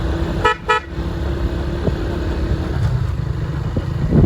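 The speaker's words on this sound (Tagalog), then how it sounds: "malakas pa rin ang ating busina" Two short honks from a battery-powered motorcycle's horn sound close by, followed by a steady idling engine hum.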